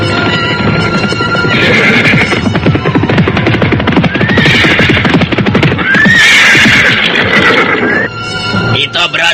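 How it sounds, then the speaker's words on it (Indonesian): Horses gallop and neigh loudly and close as a band of mounted riders approaches, a dense rumble of hoofbeats with several whinnies rising above it, with voices in the mix. "dari jauh terdengar suara gemuruh orang-orang berkuda. Semakin lama semakin dekat"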